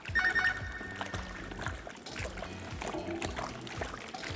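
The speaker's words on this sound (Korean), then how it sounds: "이제 이거를 팍팍 으깨서 이렇게 씻어 주셔야 돼요" Baby potatoes rubbed and washed in water, a wet sloshing and scrubbing with splashy churning and knocking of potatoes, steady and close, with a brief tonal ringing at the start.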